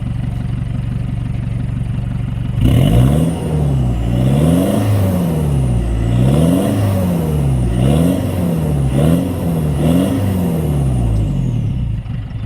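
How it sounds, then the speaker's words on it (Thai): An Isuzu D-Max pickup engine revs repeatedly through a modified straight-through exhaust with a middle muffler, loud and close, each rising blip falling back in a steady series over a constant rumble. "เดี๋ยวเร่งเครื่องให้ฟังนะ"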